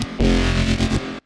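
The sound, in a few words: reverb plugin on bass synth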